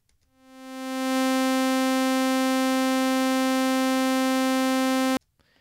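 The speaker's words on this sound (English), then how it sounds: "I started with just a default saw wave that I resampled from the polysynth" A default saw wave resampled from Bitwig's polysynth plays a single sustained, bright, buzzy note, fading in over about a second, holding steady and loud, then cutting off abruptly.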